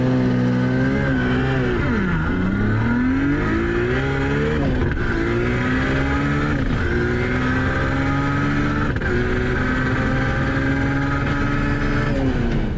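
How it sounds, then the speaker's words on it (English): A Nissan R32 GT-R with an RB26 engine bogs as it launches off the line. The engine note is loud and close, with a strained tone that sags and then slowly recovers, rising and dipping unevenly throughout. "I just couldn't make enough boost off the line, which meant I either had to drive the car mega aggressive and get wheel spin, or it would bog like this"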